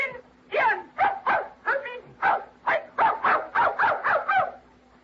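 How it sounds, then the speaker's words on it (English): A dog barks in a radio drama, giving a run of about a dozen sharp, evenly spaced yips and barks, close and clear over a faint steady hum. "That's a dog? It's canine."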